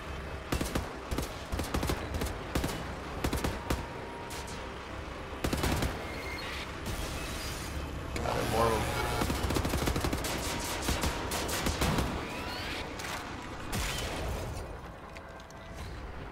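Enemy gunfire in the video game Wolfenstein: The New Order, with rapid bursts of automatic shots and mechanical clatter repeating through a firefight, loud and close.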